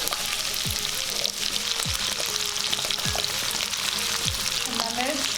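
Onion, ginger and chopped garlic frying in hot pakora oil, a steady loud sizzle and crackle running continuously, with a few soft stirring knocks.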